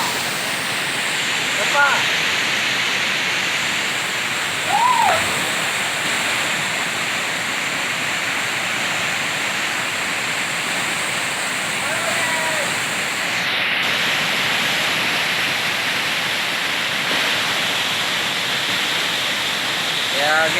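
Pungki waterfall in Aceh Barat roars steadily with continuous dense rushing water, close and loud throughout, with a few brief voices and whistles faint underneath.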